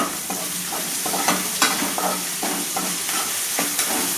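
Mutton curry masala with salt sautéing in a pan, a loud continuous sizzle with frequent quick scraping strokes of a spoon stirring through it.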